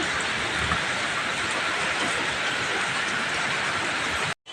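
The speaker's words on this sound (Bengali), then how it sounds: "প্রচুর বৃষ্টি হচ্ছে প্রচুর" Heavy rain pours in a dense, steady roar, loud and continuous throughout with no voices.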